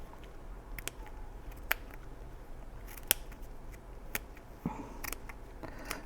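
Small scissors handled near a pin cushion, giving a few sharp, sparse metallic clicks and snips over a quiet, faint background.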